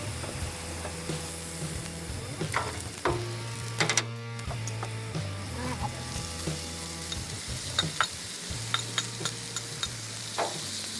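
Steak and butter sizzling on a griddle, a steady crackling fry close up, punctuated by metal spatula scrapes and taps, with a low appliance hum underneath.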